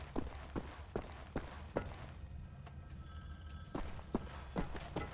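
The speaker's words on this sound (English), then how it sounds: "Phone's ringing." A telephone rings in the video game Wolfenstein, a repeating ring heard over continuous in-game background noise and a series of thudding footsteps.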